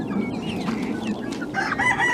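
Chickens, including little chicks, cluck and crow nearby in a steady barnyard chorus, a rooster-like call rising over continuous clucking, with no talk.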